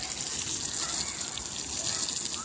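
Water poured onto freshly transplanted greens in a garden bed, a steady close gush of splashing flow running unbroken and fairly loud throughout.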